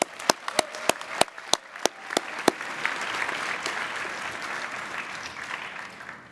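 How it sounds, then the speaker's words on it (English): A commencement audience at an art school graduation ceremony claps, opening with a few sharp individual claps that swell into sustained applause, heard from a distance in a large hall. "Let's give her another round of applause."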